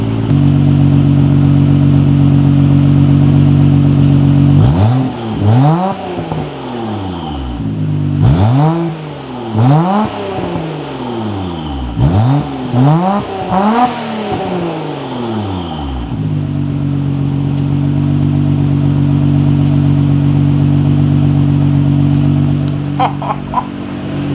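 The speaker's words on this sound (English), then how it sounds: "So the idle's definitely different. We'll give her a minute to warm up." A Nissan Skyline R33 GT-R engine with a new equal-length front exhaust pipe idles with a deep, steady rumble, revs up and down several times in the middle, then settles back to a loud idle.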